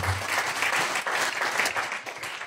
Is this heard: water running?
no